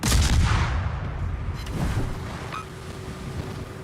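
Torpedoes launching and exploding in a tugboat video game, a loud booming blast at the start followed by rushing water and rumbling surf that fades to a lower wash, with no voices.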